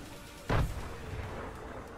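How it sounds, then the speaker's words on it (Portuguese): A grenade in the video game Fortnite, one sharp thudding blast that fades into a low rumble against quiet background game noise. "Tô jogando granada."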